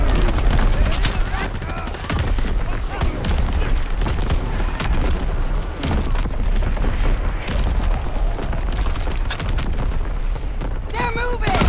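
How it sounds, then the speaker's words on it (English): Enemy artillery explosions and heavy gunfire in a Call of Duty WWII battle, a dense, continuous barrage of booms and rapid shots with shouted voices mixed into the din. "Enemy artillery! Get to cover!"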